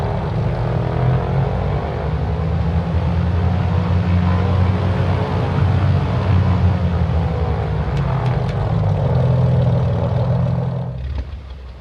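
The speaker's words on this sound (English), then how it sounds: "That is a beautiful, deep sounding motor." A TB-30 Epsilon propeller plane's engine runs in Microsoft Flight Simulator 2020, a deep, steady, loud drone with a low throbbing hum that holds for several seconds before cutting off abruptly near the end.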